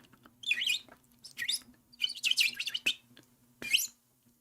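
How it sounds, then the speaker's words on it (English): A bird chirps in several quick bursts of high, bright tweets, fairly close and clear over a faint low hum. "Bird."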